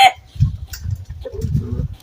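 Chickens and a rooster in a backyard garden cluck and murmur in low, close, choppy bursts, with a brief higher call at the start.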